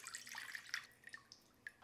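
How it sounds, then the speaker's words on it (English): Water trickles and drips into a container while measuring 325 grams for a 70% hydration sourdough bread dough, with faint, irregular splashes and small drops, quiet throughout. "And I want to measure out 325 grams of water."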